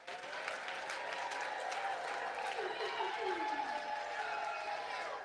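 A church congregation applauding and cheering with joy, a broad wash of clapping and shouts from a large crowd, steady and full throughout with voices rising over the claps.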